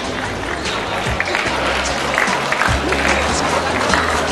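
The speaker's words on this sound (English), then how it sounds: "once again a round of applause for all of the players that just finished" An arena audience at the 29th SEA Games table tennis men's team semi-final between Vietnam and Malaysia gives sustained applause, a dense wash of clapping and crowd noise throughout.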